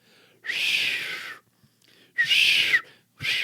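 Failed attempts at whistling, three breathy, airy hisses that carry no clear pitch, each lasting under a second with short pauses between, close to the microphone.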